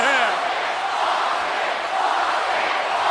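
A wrestling arena crowd cheers in a loud, steady roar that fills the whole stretch without letting up.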